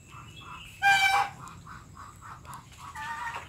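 Geese and a big male bird call from a poultry pen, a run of short, evenly paced honks with one louder, harsh burst near the start, moderately close.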